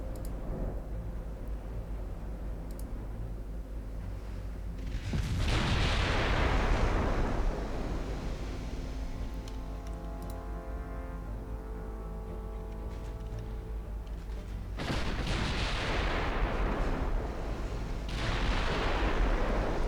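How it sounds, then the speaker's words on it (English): Big warship guns firing in a naval combat video game: two deep, booming salvos, the second about ten seconds after the first, each with a long rumbling tail and a low steady background between them. "it's only got big guns."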